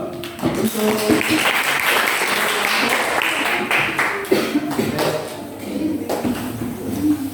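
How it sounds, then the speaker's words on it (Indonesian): Applause for the winning group in a classroom, a steady wash of clapping from many pupils lasting several seconds, with some voices mixed in underneath. "Selamat, kasih aplaus dulu."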